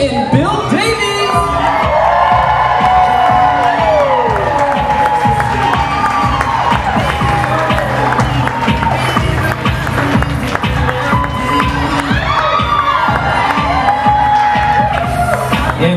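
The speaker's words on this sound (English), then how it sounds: "how about a big round of applause for our parents of the bride, Patty and Bill Davies?" A wedding crowd claps and cheers loudly and continuously as the bride's parents are announced, with whoops and shouts over dense applause and some voices mixed in throughout.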